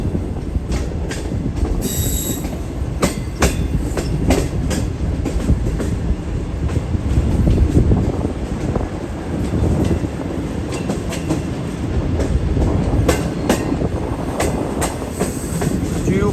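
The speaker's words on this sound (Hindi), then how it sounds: "शालीमार एक्सप्रेस भी निकल रही है इस वक्त कोटरी जंक्शन से।" The Shalimar Express passenger train rolls along the rails near Kotri Junction in Pakistan, a steady loud rumble of wheels with rhythmic clatter and a brief high wheel squeal, no talking.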